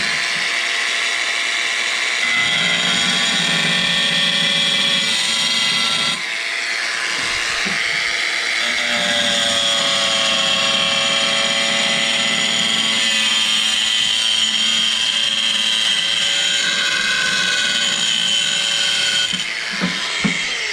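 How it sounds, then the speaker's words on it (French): Angle grinder fitted with a diamond stone disc cutting slate, a steady high whine with grinding rasp throughout, briefly dipping and resuming mid-cut, close and loud. "Alors on va prendre la meuleuse avec un disque à pierre,"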